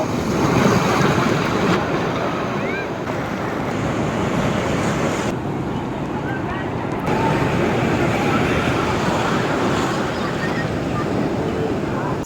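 Sea waves break at Puri beach as a loud, continuous surf wash with gusts of wind buffeting the microphone and a faint voice underneath.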